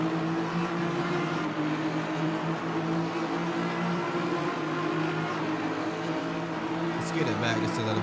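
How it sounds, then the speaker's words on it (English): Race cars in a sim racing game at Spa, a steady engine drone with layered tones running throughout under a commentator's voice, with a brief sharper burst near the end. "I can hear cars behind us"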